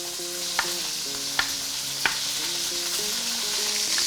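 Beef brisket browns in a hot pan with a steady, close sizzle, punctuated by three sharp utensil clicks, while soft tonal music plays faintly underneath.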